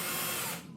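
A power drill whirs briefly in an apartment, a short, steady high-pitched buzz that tapers off near the end.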